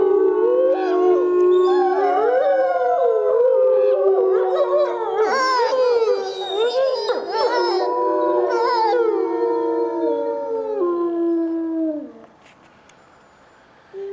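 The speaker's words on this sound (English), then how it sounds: "And she does howl. And I'll let you listen to this clip here." A young wolf howls in long, wavering, high-pitched cries with yips and breaks, several overlapping voices sustained for about twelve seconds before fading.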